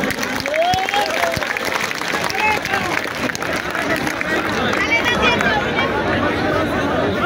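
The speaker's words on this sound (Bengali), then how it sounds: "আপনারা করতালি দিয়ে তাকে বরণ করে নেবেন।" An audience applauds to welcome a speaker at a political gathering in Natore, as dense, continuous clapping mixed with crowd chatter and babble sustains throughout.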